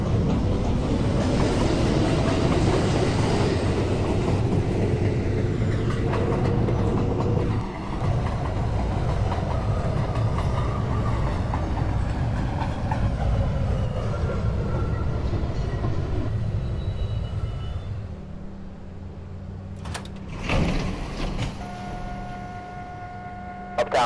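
An uptown New York subway 1 local train runs on the tracks with a loud, steady rumble and rattle. It eases off toward the end, and a brief screech and clatter cut in near the close.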